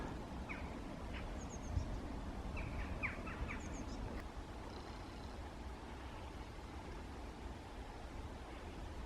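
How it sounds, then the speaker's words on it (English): Small bird chirping in a recumbent oak during winter, a few brief, thin calls scattered over steady outdoor background noise, faint and somewhat distant. "And a bird I don't know in it."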